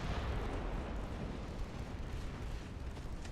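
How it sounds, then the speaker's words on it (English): A deep, rumbling naval explosion from a torpedo striking a ship in Ultimate Admiral Dreadnoughts, a sustained broadband roar filling the whole clip with no speech over it. "And we took a torpedo."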